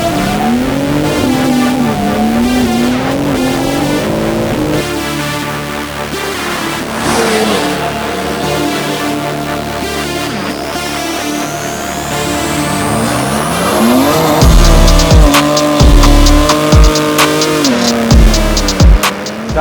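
A BMW M3 accelerates hard, its engine climbing through rising revs with gear changes and a sharp, loud surge near the end, close and unaccompanied by talk.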